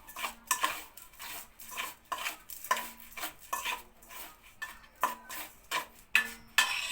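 A spoon stirs and scrapes a spice mixture with turmeric in a bowl, giving repeated clinking and scraping strokes in a steady rhythm, close and fairly quiet, with no talk.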